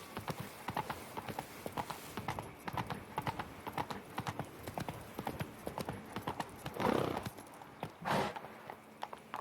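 A horse galloping in The Witcher 3, rendered as quick rhythmic hoof clip-clops at close range, with a brief snort or whinny-like breath near the end.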